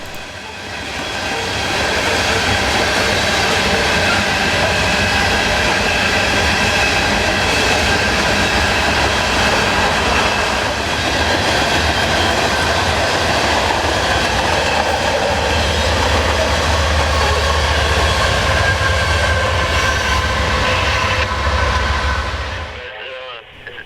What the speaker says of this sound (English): This train began its trip from Oaktown, Indiana 5 days ago and will be unloaded later today at Orlando's OUC Stanton Energy Center near Wedgefield.